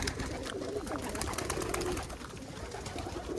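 A young homing pigeon coos quietly in low, rolling bursts amid faint background noise and scattered clicks over a few seconds.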